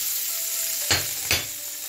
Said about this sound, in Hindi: अब इसके अंदर जो पनीर है इसको हम फ्राई करेंगे।